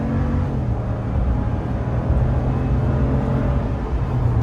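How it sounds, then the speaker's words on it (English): A 2019 Ram 1500 Limited pickup truck engine drones steadily while driving, a continuous low rumble with road and cabin noise, heard from inside and without talk. "You guys can hear that engine right now."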